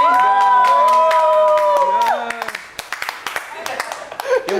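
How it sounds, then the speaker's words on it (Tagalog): A group in a reality-show house cheers and shouts to welcome a new housemate, with a loud sustained vocal shout breaking into scattered claps, whoops and excited voices. "Sigawan."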